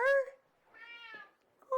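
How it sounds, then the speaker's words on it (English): A pet cat gives three meows in a home kitchen, close and fairly loud, with short pauses between them and no talking over them. "I'm going to get the only grandpa I know, my cat Jasper, to come and join us."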